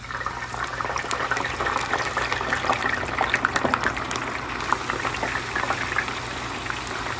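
French fries deep-frying in oil in an OVENTE electric deep fryer, a steady dense bubbling hiss with crackling pops, continuous and close for the whole stretch.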